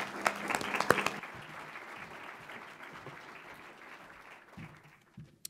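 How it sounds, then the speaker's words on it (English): An audience at a forest industry lecture claps steadily, a dense patter of applause that gradually fades out, with a few scattered claps at the end. "Please give a round of applause for Ellen."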